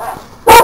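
A single sharp dog bark rings out near the end, loud and close, after a moment of quiet.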